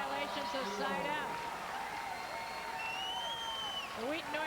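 A Wheaton North crowd at a 1996 Illinois boys volleyball championship game cheers and shouts steadily, a loud, dense roar of many voices with whistles and yells running throughout.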